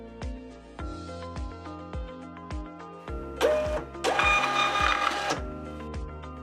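USB 4x6 label printer printing a single shipping label: a steady run of rhythmic mechanical clicks and thumps from the feed, then a louder whirring, buzzing stretch as the label passes through, close up and with no voices.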